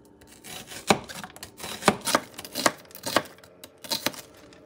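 A knife chops onions on a cutting board in a string of about eight sharp, close knocks with uneven spacing and no talk.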